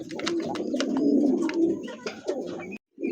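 Racer pigeons of a rare homogeneous colour coo close by in soft, rolling, throaty phrases that overlap into a steady murmur, then break off briefly near the end.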